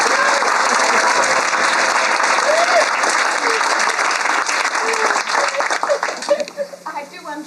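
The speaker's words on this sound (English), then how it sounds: "To remind you that this is a poetry reading, so smattering of applause is appropriate." Dense audience applause after a poetry reading fills the room, loud and steady, then thins into scattered claps near the end, with a few voices and whoops mixed in.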